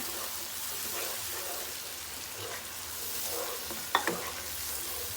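Spring onion paste frying for green chilli chicken gives a steady, close hiss of oil, with a couple of sharp utensil clinks near the end.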